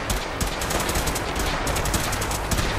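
Dense, loud gunfire in Fallout 4 during a battle, continuous overlapping automatic shots packed tightly together with no breaks across the whole stretch.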